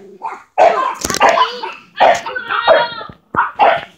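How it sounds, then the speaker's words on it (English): A young female dog, about eight months old, gives a run of close, loud barks and yips in short bursts, with brief whimpers between them. "My dog just doesn't want to leave them."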